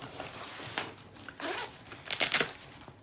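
Scratchy tearing rips of a Velcro strap on a travel art bag compartment being pulled open in several short bursts, close up and fairly quiet.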